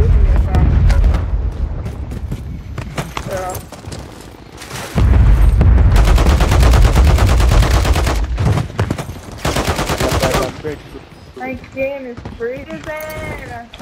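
Gunfire in Call of Duty Warzone quads: long, loud bursts of rapid automatic fire with heavy booms, broken by short pauses, and voices talking over and between the volleys.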